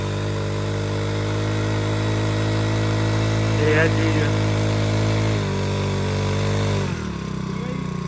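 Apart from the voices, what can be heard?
engine-powered machine from England starting and running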